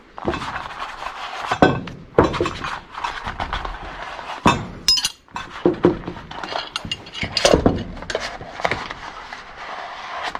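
A spanner working on scrap medical equipment, close and loud with irregular metallic clanks, ratcheting clicks and scraping, some sharp knocks standing out among the rattling.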